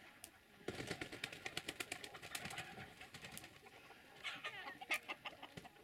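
Chickens outdoors giving soft, fairly distant clucks and coos in an irregular run of short calls over a quiet open-air background.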